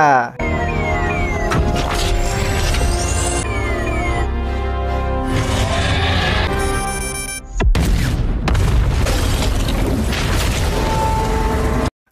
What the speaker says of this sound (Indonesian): Chuck yang di dalam Striker mempunyai ide untuk meledakkan diri dengan tujuan membunuh 2 Kaiju agar Gypsy bisa menuju portal